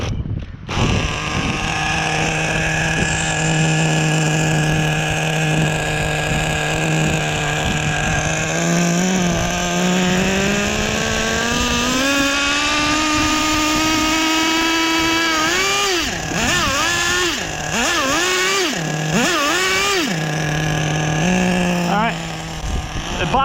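Team Losi XXX-NT nitro RC truck with an OS 12CV engine on 30% nitro fuel, a loud, close, buzzing two-stroke whine that holds steady, then rises in pitch and revs up and down in repeated bursts.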